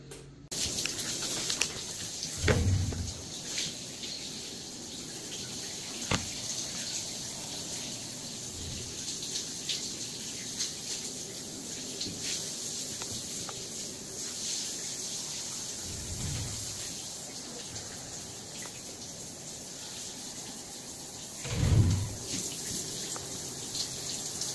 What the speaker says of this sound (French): D'abord on fait un essai d'eau sur la douche.